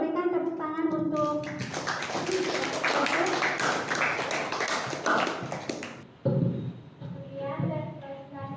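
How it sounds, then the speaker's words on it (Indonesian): A classroom audience claps after a student presentation, a dense burst of applause lasting several seconds that stops abruptly, with talk heard before and after it. "berikan tepuk tangan"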